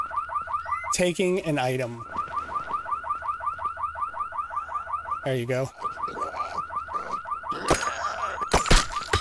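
A car alarm blares in the survival video game No One Survived, a steady pulsing wail with regular repeating tones that runs through the whole stretch while someone talks over it in bursts.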